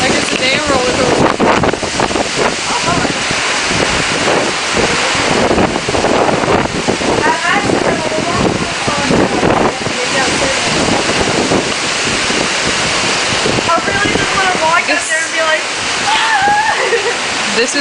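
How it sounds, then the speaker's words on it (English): Hurricane Gustav's wind roars loud and constant, a heavy rushing buffet against the microphone with a watery surf-like wash, while several people talk and laugh through it. "We're riding the hurricane like it's a damn roller coaster."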